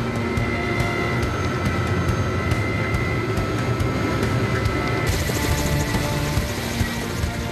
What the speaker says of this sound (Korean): 헬기가 본격적으로 밤나무 위를 닿을 듯 말 듯 저공 비행하기 시작한다.